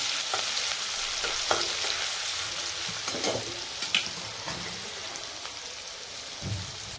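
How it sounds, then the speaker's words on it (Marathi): A ground paste of garlic, cumin and coriander hitting hot oil, a loud, dense, continuous hiss and crackle close at hand, with a few faint clinks of a spoon stirring and no speech. "तेल छान गरम होऊ देते आणि यामध्ये थोडेसे जिरे टाकते"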